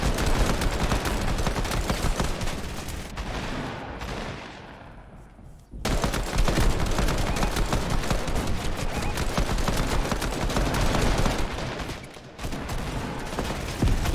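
Dense, continuous pistol gunfire in a Fortnite competitive match, rapid shots crowding together loud and close, broken by a brief lull before the firing resumes.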